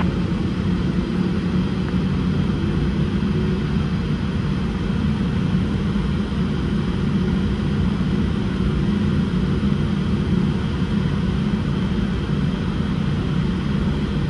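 An Air Canada Boeing 787-8 airliner roars steadily during its takeoff from Montreal, with a constant loud jet engine rumble and no talk.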